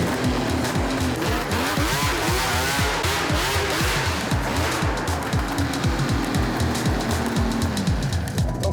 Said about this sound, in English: I would be safe to say this is the first snowmobile that's ever been ridden in Long Beach.